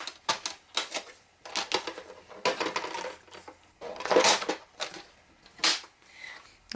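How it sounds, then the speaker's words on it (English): Paper is trimmed to length for a pirate-themed interactive album with a trimmer, giving a series of close, dry clacks and sliding rasps in irregular bursts and no talk. "I've got mine at 11, so I'm just going to trim a little bit off."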